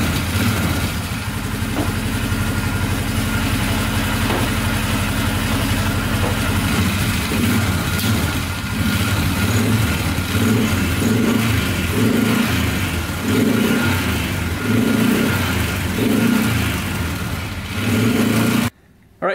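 Polaris 500 4x4 ATV engine running close up, a steady idle that rises into throttle revs with rhythmic pulsing swells in the second half before cutting off at the end.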